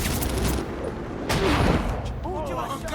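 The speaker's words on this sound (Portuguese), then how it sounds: "Quem tá atirando em mim?" Gunfire in the Batman Arkham Origins video game, a dense burst of rapid shots filling the clip with some louder swells, while someone talks over it.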